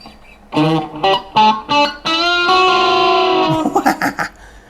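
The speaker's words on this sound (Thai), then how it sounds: "ทำไมใครมาเล่นกีตาร์เพี้ยนไปหมดเลย" Distorted electric guitar with untuned strings plays several short notes, then a long sustained chord, followed by quick strums; it sounds slightly out of tune.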